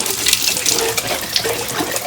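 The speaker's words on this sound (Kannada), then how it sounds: "ನೀವು ಬಾಟಲ್ನ ನೀಟಾಗಿ ತೊಳಿಬೇಕು." Tap water runs steadily over a baby bottle being rinsed in a sink, a close, even rush of splashing water throughout, with no talk.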